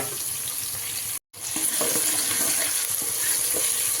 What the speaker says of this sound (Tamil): நல்லா வெங்காயமும் தக்காளியும் நல்லா வதங்கலாம்.